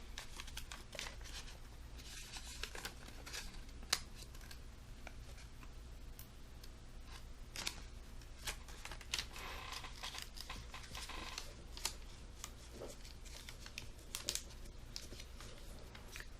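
Origami paper is folded and creased close up, in soft intermittent crinkles, rustles and sharp little creasing clicks scattered irregularly over a quiet background with no speech.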